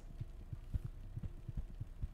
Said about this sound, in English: Is your heart beating?